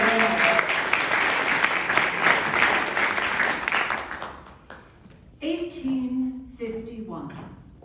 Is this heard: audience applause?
yes